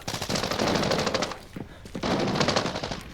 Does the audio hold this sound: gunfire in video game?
yes